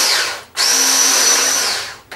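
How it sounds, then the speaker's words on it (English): An electric mixer fitted with an egg whisk attachment beats butter and sugar for cupcakes, giving a loud, steady motorized whir. It runs in a short burst, pauses briefly, then whirs again for over a second before trailing off. "I've now got the egg whisk. It's working quite well. And we just mix the butter together with that sugar."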